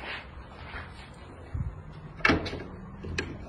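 A locked door in an abandoned UK police station being tried, with a dull thud of the handle and door rattling against the lock, followed by a sharper knock, close and moderately loud over quiet room tone.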